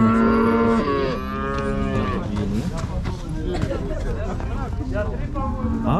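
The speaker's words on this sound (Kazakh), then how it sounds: "Сиыр бұзауымен." A cow with her calf moos loudly and close by at a busy cattle market, long drawn-out lows repeating over crowd babble and people talking nearby.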